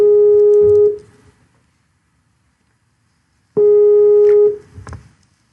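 A telephone call is dialed into, producing two long steady electronic ring tones separated by silence, clear and close, with faint background noise after each.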